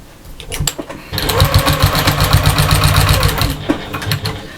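A sewing machine fitted with a walking foot stitches a lunch box, starting after a few faint clicks into a steady, loud mechanical whirring hum with rapid needle chatter, then slowing and stopping near the end.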